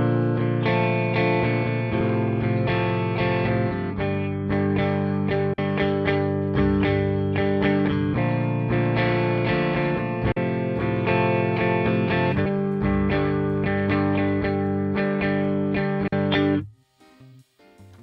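Electric guitar played through a Hiwatt Custom 50 amplifier and a BIAS amp model, loud distorted chords with chorus-like effect in a steady riff, ending abruptly before a short near-silence.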